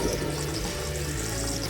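Water poured over a Realme Note 60 smartphone, a steady broadband splashing and trickling wash that runs continuously and fairly close with no pauses and no talk.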